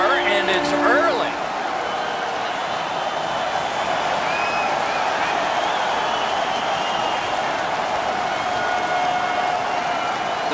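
In the NHL 18 hockey video game, a home arena crowd roars after an early goal, a loud, sustained wash of cheering and applause that holds steady throughout.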